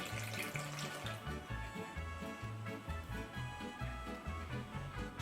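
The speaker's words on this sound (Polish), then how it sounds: "Następnie wlewam wodę i olej." Water and oil poured into a bowl of corn and wheat flour for dough, a continuous trickling, splashing pour heard up close over a few seconds.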